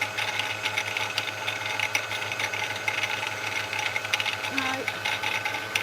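Domestic sewing machine winding a bobbin with yellow thread: a steady, close, fast mechanical whir and rattle running throughout, with a brief spoken word.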